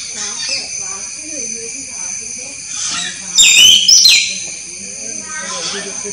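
A pair of jungle mynas calls from trees near a forest tree house, giving varied chirps, whistles and chattering notes at moderate distance, with a louder burst midway and a person talking over them.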